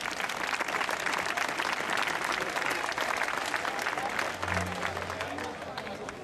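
Loud applause for a team at a Basque rowing league event in Trapagaran, a continuous clapping crowd with some murmuring beneath it that eases slightly toward the end.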